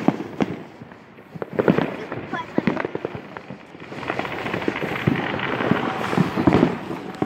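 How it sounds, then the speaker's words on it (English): Fireworks bursting at an Independence Day celebration, a steady run of sharp pops and crackles at middle distance, with louder reports scattered through and faint crowd chatter underneath. "it's the fireworks that we're going for"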